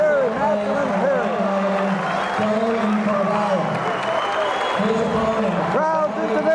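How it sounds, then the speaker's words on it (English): Large crowd at a 2004 high school wrestling match in Medina roars and cheers continuously, a loud sustained wash of voices with a commentator talking over it throughout. "the crowd goes wild"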